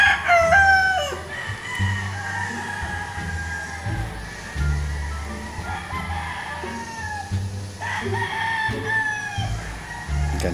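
A young eight-month stag gamecock crows loudly at a game farm, with one crow at the start and another partway through, over a background of other clucking and crowing fowl.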